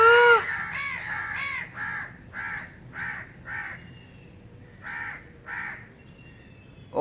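Several crow caws sound from a nearby rooftop, loud and distinct, spaced in an irregular series of about eight calls over a quiet outdoor background.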